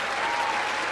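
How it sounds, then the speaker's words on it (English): Applause in a workshop-themed show studio, a dense steady burst of many hands clapping for under a second, loud and continuous with no talk over it. "There's a clap."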